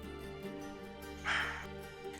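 A barking deer in the Margalla Hills gives a single short, sharp bark-like call, faint and distant over a low background hum.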